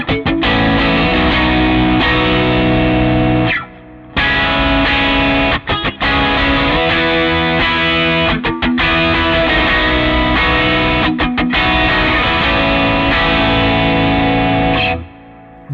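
An electric guitar runs through a Line 6 Helix with cut highs and a boosted midrange near 1600. It plays loud, sustained distorted chords with a few brief gaps and no voices.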